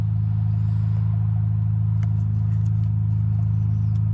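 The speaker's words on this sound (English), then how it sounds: "Sorry it's loud, the car's got to be on for this." A Volkswagen GTI engine idles steadily and loudly close by, a constant low hum with no revving throughout.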